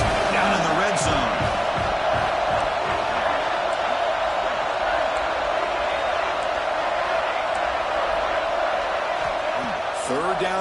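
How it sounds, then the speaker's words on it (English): Football stadium crowd at a Virginia Tech game cheering as the home defense holds in the red zone, a dense sustained roar filling the whole stretch with a commentator talking over it. "the crowd coming to life here, trying to help this defense down in the red zone"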